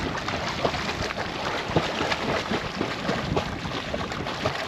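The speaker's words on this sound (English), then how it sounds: "The wind is pretty strong today." Strong wind buffets the microphone outdoors on a lake during a canoe outing, a steady broadband roar with gusty swells and faint water and paddle sounds, no talking.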